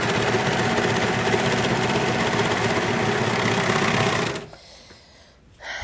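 A sewing machine runs in one long, loud, steady burst of stitching through fabric, then stops abruptly and leaves near quiet.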